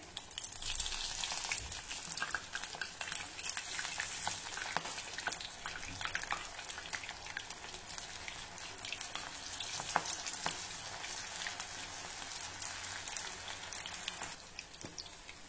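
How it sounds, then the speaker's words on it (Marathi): Corn bhaji fritters frying in hot oil: continuous loud, crackling sizzle with bursts of bubbling pops, close up and steady throughout. "आपल्याला ही भजी अशी बोटामध्ये घट्ट दाबून मग तेलात सोडायची आहे."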